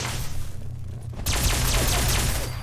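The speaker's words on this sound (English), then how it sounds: "Let's equip that alien blaster pistol." Alien blaster pistol in Fallout 4 fires a rapid volley of sharp energy zaps, starting abruptly after a quiet stretch and continuing loud and dense to the end over game background rumble.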